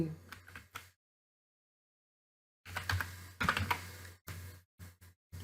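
Keyboard typing in Bangla text within Canva, heard as short clusters of key clicks, then a gap of silence and a denser burst of close, fairly loud tapping with a few separate strokes at the end.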